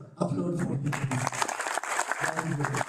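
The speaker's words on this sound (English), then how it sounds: "Please applaud for him." Audience applause at an award ceremony, a burst of clapping that starts sharply and carries steadily for about three seconds, with voices mixed in around it.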